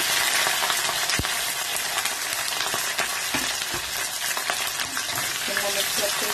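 Capsicum frying in a pan with ginger garlic paste, a loud continuous sizzle and hiss with scattered stirring clicks and scrapes close up.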